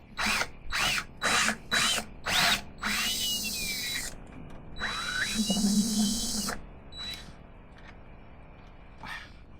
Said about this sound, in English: Really the wrong drill for this.